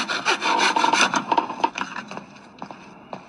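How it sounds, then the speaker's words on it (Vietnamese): A hand saw cuts wooden planks in a horror video game, giving quick rasping back-and-forth strokes that are loud and close at first, then fade to sparser, fainter scrapes, with no voices. "mình có chiếc cưa và mình sẽ cưa những tấm gỗ này đi"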